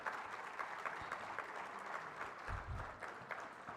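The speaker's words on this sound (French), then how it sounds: "sous vos applaudissements" Audience at a social and solidarity economy forum in Keur Massar applauding, a steady, fairly faint patter of many hands clapping from some distance, with a few low thumps near the end.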